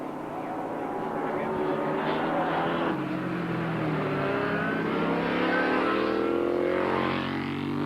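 Racing motorcycles from Suzuki, Honda, Kawasaki and Yamaha in a 1986 long-distance production race at Oran Park, a continuous loud engine roar with rising and falling revs as bikes pass, commentary voice running over it.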